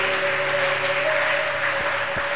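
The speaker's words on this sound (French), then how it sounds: "Acclame pour le Seigneur Jésus." Congregation applauding for the Lord Jesus during a church service, a steady, dense wash of clapping from many hands throughout, with a sustained tone ringing underneath.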